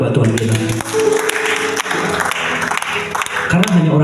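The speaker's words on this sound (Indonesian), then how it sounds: "Berikan tepuk tangan buat Tuhan kita." A church congregation claps at a service, a steady patter of applause running underneath music and the pastor's voice throughout.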